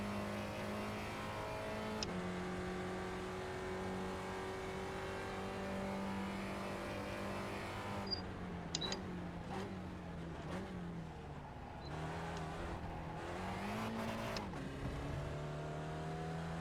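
Simulated Spec Racer Ford engine at Sebring in iRacing, a steady loud drone that rises and falls with shifts and braking, with short tire and gear transients partway through, and no talking.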